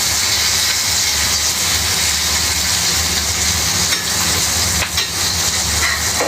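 Battered prawns (udang goreng tepung) frying in hot oil give a loud, steady crackling sizzle and hiss, close up and continuous, with a brief louder spatter near the end.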